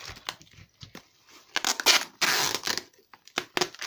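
Paper being torn and crinkled while a gift box is wrapped with paper and tape, in irregular bursts of ripping and rustling at close range, with short pauses between.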